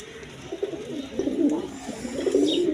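Pigeons at a seller's lofts coo in soft, repeated throaty phrases, close and fairly clear, several calls overlapping over a low background murmur.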